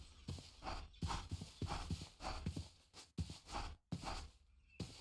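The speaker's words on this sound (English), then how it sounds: "Why do I sound like a horse?" Video game horse hooves in Minecraft clip-clop in a quick, steady rhythm, close and clear, with the pattern cutting off briefly a few times.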